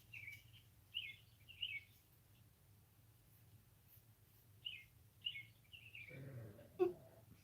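Faint bird chirps come in short bursts at a distance over a low wind rumble outdoors, followed by a brief soft knock near the end.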